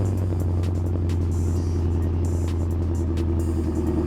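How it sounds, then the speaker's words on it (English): A 2016–2022 Chevrolet Camaro SS V8, started by remote, settles into a steady, loud, close idle rumble that holds evenly throughout without revving. "we're gonna remote start the car first"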